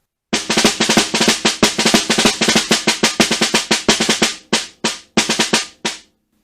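Snare drum played solo in a rudimental etude, with dense rapid strokes and rolls that break into separated accented notes and a slowing close, loud and near.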